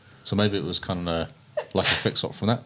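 A single sharp sneeze bursts out during a casual conversation about video game patches, with people talking just before and after it.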